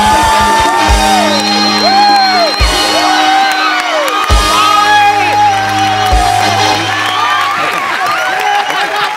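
A comedy-show studio audience roars, with shouts, whoops and cheering mixed into clapping, a loud continuous crowd din lasting the whole stretch.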